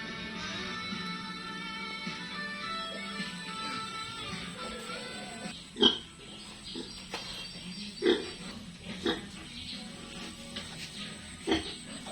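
Newborn piglets from a healthy litter of thirteen sired by the boar Michael, faint soft grunts and squeals at low level with a few louder sharp squeaks scattered across the stretch.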